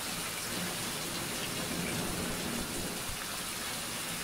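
Steady rain falls in the survival game Survival Fountain of Youth at night, a dense, even hiss of drops with a low rumble underneath, continuous throughout and with no talk over it.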